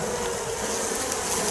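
Honey bees buzzing at a hive during early spring colony development, a steady dense hum filling the clip without pause, close and fairly loud with no talk over it.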